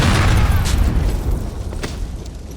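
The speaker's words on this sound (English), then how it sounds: "Yes, another excuse to use the grenades." A grenade blast in Grand Theft Auto IV, one loud, close boom with a heavy low rumble that decays over a couple of seconds with no voices.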